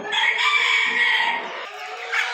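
Silkie laying hens kept in small setups at a poultry seller's, giving a bright continuous clucking and cackling close by, easing briefly before a short burst returns.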